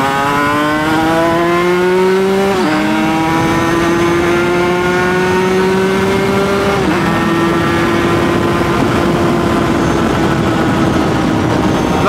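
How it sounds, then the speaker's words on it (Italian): A two-stroke motorcycle engine fitted with the cylinder and piston from an older bike drones steadily at close range, with a deep, buzzy tone. It shifts pitch twice as gears change, without a break in the sound. "Come avrete notato, il sound della mia moto è molto più cupo. Questo perché ho messo il cilindro e il pistone della vecchia moto."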